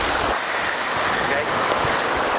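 Ocean waves wash over a beach in steady broadband surf noise, close and continuous with some wind buffeting the microphone.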